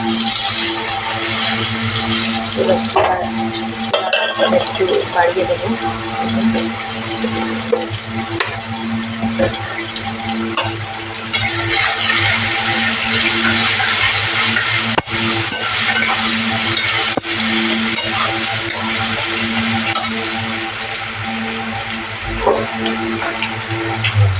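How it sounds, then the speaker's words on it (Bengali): Chopped onion, garlic and chili sizzle steadily in a hot pan, a continuous close frying hiss with occasional stirring scrapes and clinks, no voices. "দিয়ে দেবো কেটে রাখা পেঁয়াজ রসুন মরিচ দিয়ে দেবো"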